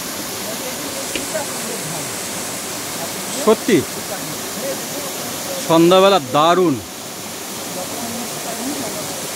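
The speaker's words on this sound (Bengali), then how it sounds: "জলপ্রপাতের আওয়াজটি" Steady broadband roar of a waterfall at the Pithabata entry point of Simlipal forest in the evening, continuous and close, with two people briefly talking over it.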